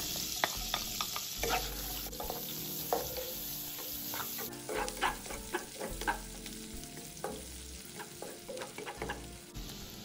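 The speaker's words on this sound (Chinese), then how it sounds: "锅里头的油保留，炉转中低火，然后将切细后的大葱倒入爆香。" Finely chopped scallions stir-frying in reserved hot oil over medium-low heat, a steady sizzle broken by repeated scraping and clacking strokes of a spatula against the pan, close and alone.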